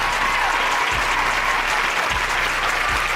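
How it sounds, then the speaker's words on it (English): A dense, steady burst of crowd applause runs unbroken for a few seconds, loud and close, with a few dull low thumps under it. "round of applause for all of y'all right now that's watching right now live"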